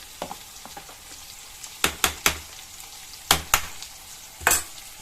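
Rice being stirred in a pot on a gas stove, several distinct close scraping strokes in quick clusters over a low background hiss, with no speech.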